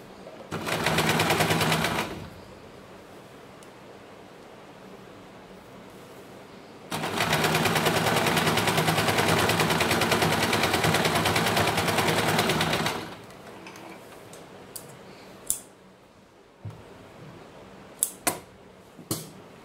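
Sewing machine running straight stitches over elastic on a small child's umbrella skirt, two loud continuous whirring runs, the second longer, followed by a few sharp clicks and taps.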